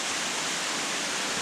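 Ramona Falls on Mount Hood along the Timberline Trail: the waterfall gives a steady, close, full-bodied roar of rushing water, heard alone without any voices.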